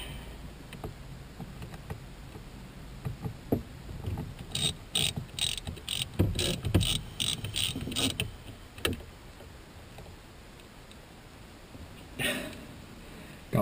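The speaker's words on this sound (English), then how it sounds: "take out there's two screws on the back of the steering wheel, and Kenji says they are T20 Torx screws" A hand tool works on the T20 Torx screws at the back of a 2010 Camaro steering wheel, giving a quick run of clicking, ratchet-like ticks mid-clip and a few scattered metallic taps, close and fairly quiet.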